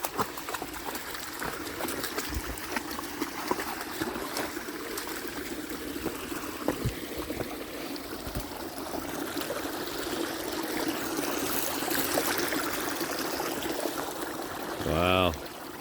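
A small woodland creek flows and trickles steadily close by, a continuous watery wash with a brief louder splash near the end and no talk over it.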